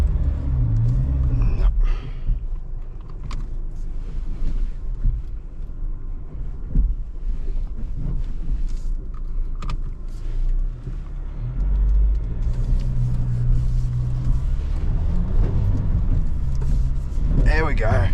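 Volkswagen Amarok 10 Deserts Edition climbing a step off-road, struggling slightly for traction: a low engine rumble that swells and dips as it crawls up, with a voice talking over parts of it.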